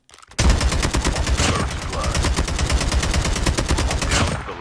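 Rapid automatic gunfire from Call of Duty Mobile aimed at a training robot, a fast, evenly spaced stream of loud shots running almost continuously after a brief quiet start, with no talk over it.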